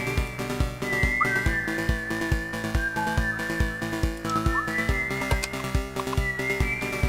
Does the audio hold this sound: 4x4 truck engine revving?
no